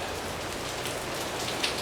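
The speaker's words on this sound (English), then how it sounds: "I don't think this rain's gonna stop" Steady rain falls as a soft, continuous hiss of drops on surfaces, fairly quiet and even, with no voices over it.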